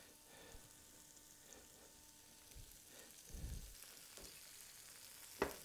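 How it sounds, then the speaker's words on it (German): New young potatoes frying gently in olive oil over moderate heat, a faint, even crackle with an occasional soft bump from the pan, no talking. "Und die braten wir jetzt an."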